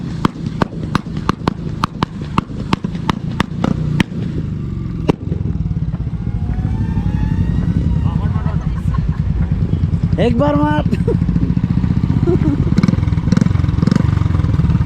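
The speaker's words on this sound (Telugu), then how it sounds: "ఇక్కడ ఎవరో ఎగ్జాస్ట్ చాలా గట్టి సౌండ్ చేస్తున్నారు." Royal Enfield motorcycle exhaust at a bike festival in Goa, a loud, close rapid thumping idle with sharp revving pops, then a continuous rumbling roar as the engine is held up, with a voice briefly over it.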